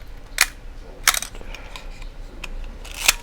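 Pentacon Praktica LLC film camera shutter firing in bulb mode, giving sharp mechanical clicks that come in close pairs as the shutter opens and then closes, with a few softer clicks in between.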